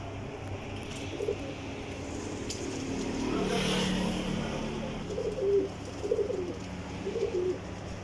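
Golden flying pigeons coo in a few soft repeated low calls toward the end, close by, while a vehicle passes in the background.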